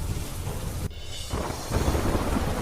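Heavy rain pours steadily during a flooding storm with strong wind, broken by a sharp crack of thunder that gives way to a rushing downpour again.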